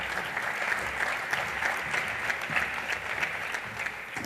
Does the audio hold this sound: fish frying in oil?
no